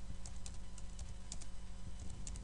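Steady keystrokes on a computer keyboard while a LaTeX document is written, a close, continuous run of light clicks with no voices.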